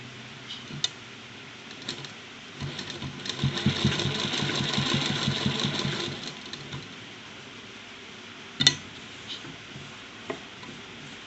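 A sewing machine stitching a kurta collar runs in one continuous burst of a few seconds, a close mechanical whirr with a rapid rhythmic patter, then stops; scattered clicks and light handling noises follow, with no talking.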